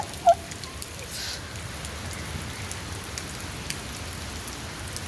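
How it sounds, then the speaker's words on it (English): Steady rain falls outdoors on a rainy day, a continuous even patter of drops on surfaces with one brief brighter sound near the start, no voices. "because it's raining"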